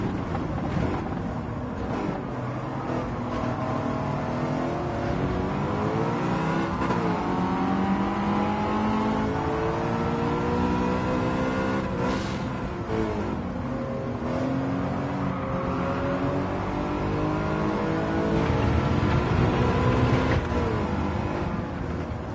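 A BMW race car in Gran Turismo 7 running in fifth gear, its engine droning loud and steady with rising and falling pitch as it accelerates and eases off, continuous throughout with no talking.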